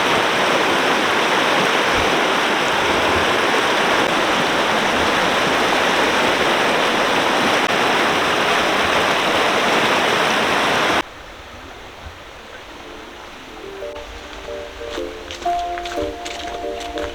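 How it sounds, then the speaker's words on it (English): Rushing whitewater of river rapids on Glade Creek in the New River Gorge roars loud and steady up close, then drops abruptly to a quieter outdoor scene with faint tonal sounds. "I think it's called like Grassy Shoals Rapids"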